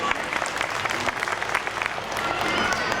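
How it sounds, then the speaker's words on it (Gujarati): An audience at a Swaminarayan school annual festival breaks into applause, dense clapping from a large crowd that swells slightly toward the end. "આપણે જોરદાર તાળીઓ પાડીએ."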